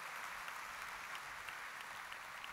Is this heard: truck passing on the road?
no